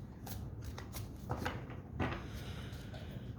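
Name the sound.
shuffling a tarot card deck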